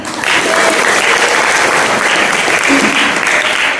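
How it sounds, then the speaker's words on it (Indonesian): Loud, continuous applause from an audience at a Qur'anic education gathering of parents, children and teachers, swelling slightly midway, with a faint voice or two mixed in under the clapping. "Tepuk tangan."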